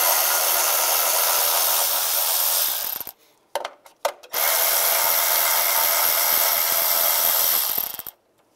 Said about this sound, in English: use a 10 millimeter socket, take these two bolts out first.